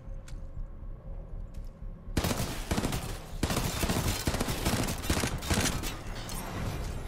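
Rapid bursts of Hemlock rifle fire crackle in Titanfall 2, starting abruptly after a quiet lead-in and continuing as dense, loud volleys mixed with other battle gunfire.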